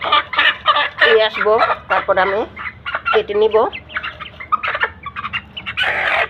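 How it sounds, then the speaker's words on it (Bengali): A native country rooster clucks in several short bursts, close by, with a person speaking at the same time before it is slaughtered for a coconut curry. "আমি এখান থেকে একটা দেশি মুরগি নিব, এই বড়টাই ধরে।"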